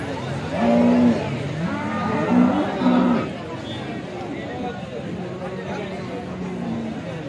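A Gir cow moos loudly a few times in low drawn-out calls at a cattle market in Alephata, with people chatting in the background.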